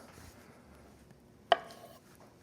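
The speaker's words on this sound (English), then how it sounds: "All I'm gonna do is just cut these in half." A knife slices through boiled eggs and strikes a cutting board with one sharp, quiet tap amid near silence.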